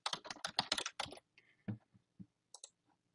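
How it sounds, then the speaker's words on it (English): Fingers type an email address on a computer keyboard in a quick burst of close key clicks, followed by a few slower, scattered taps. "And then I'm going to type in my email address here."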